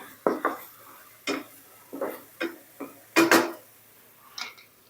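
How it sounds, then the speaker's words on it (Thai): King oyster mushrooms with chopped garlic and oyster sauce are stir-fried in a pan. Distinct spatula knocks and scrapes against the pan come at an irregular pace, close and fairly loud, with no voices. "นี่ค่ะผัดไปเรื่อย ๆ ค่ะ"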